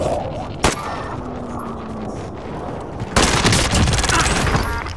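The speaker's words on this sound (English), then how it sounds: "Friendly precision airstrike." Precision airstrike in a military video game, a sharp blast followed by a heavy roaring barrage of explosions, loud and close against constant battlefield rumble.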